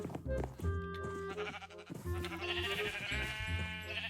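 Sheep in the Minecraft video game bleat in a few loud, wavering cries, one early and a drawn-out pair later, close by over a faint background.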